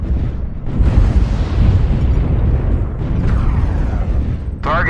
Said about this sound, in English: Artillery strike activated.